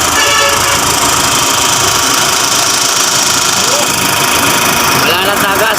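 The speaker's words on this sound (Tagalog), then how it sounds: "So ito, paanda rin na natin makina." A Ford Raptor engine runs at a steady idle during a maintenance service, a loud continuous mechanical drone with knocking texture filling the whole stretch, people talking over it.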